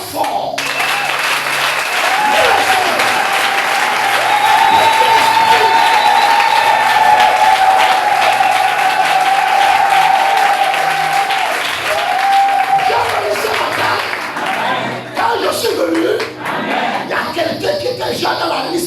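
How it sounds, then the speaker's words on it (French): A church congregation at a sermon applauds and cheers loudly in a steady, sustained roar. Shouts and voices rise within it, and it thins slightly near the end. "Je voudrais que vous acclamez très fort."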